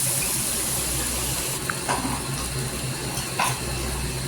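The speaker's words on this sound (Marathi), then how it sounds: "मी जे एक पेला पाणी टाकलेलं आहे हा पाणी कोमट आहे" A glass of lukewarm water goes into a dhaba-style egg masala curry as a steady, close rushing pour with a few brief splashy bursts near the end.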